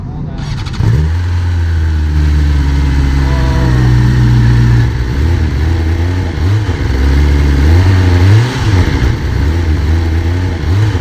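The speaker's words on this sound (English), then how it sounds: "it's the purest and juiciest 4-cylinder sound that money can buy" A new 2019 four-cylinder motorcycle engine revs repeatedly, its pitch climbing and dropping in several loud bursts over a steady idle, heard alone and close.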